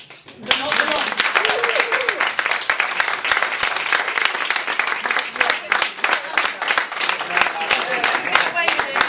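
An audience gives a sustained round of dense applause, loud and close, continuing for several seconds, with some voices mixed in.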